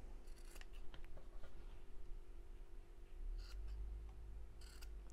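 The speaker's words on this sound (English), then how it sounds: "So now I'm just going to snip off these corners." Scissors snip the corners off a sewn fabric bunny-ear headband, a few quiet crisp cuts close by over a steady low room hum, with no talking.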